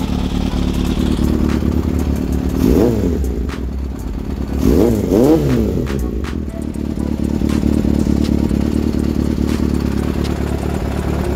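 A Yamaha XJR 400 motorcycle engine runs steadily and normally up close after repairs, with a few short revs rising and falling over the continuous idle.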